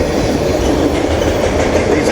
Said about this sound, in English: It's pretty empty, and it's a short train.